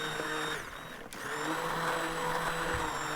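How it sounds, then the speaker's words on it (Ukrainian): A kitchen blender grinds a boiled cherry mixture into a smooth purée, a steady loud motor whine with a brief dip in pitch partway through before running on. "Далі в роботу вступає блендер."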